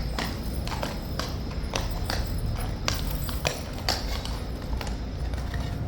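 Horse hooves clip-clop in a yard in a steady, fairly close rhythm of sharp knocks, with no talk over them.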